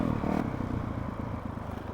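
A Honda CRF 450 RL off-road motorcycle rumbles with a low, steady engine drone while riding, with some clatter and wind noise, over a short stretch.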